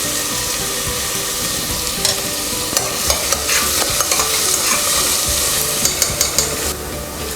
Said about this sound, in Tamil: ஆனியன் வந்து நல்லா ஃப்ரை ஆகணும். நல்லா வதக்கிக்கோங்க.